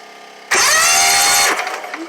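A Kawasaki FH580V small engine cranks over with its spark plugs removed, giving a loud steady whirring spin for about a second before it winds down and trails off.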